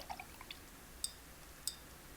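A paintbrush is swirled in a jar of dirty rinse water at a watercolor painting palette, giving faint, quiet little drips and light taps, with two brief clinks of the brush against the container.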